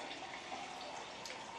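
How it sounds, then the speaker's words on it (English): Water poured from a tap over lemons and heaping spoonfuls of sugar while making lemonade, a steady, close hissing flow running without a break. "And then we're going to top it off with some water."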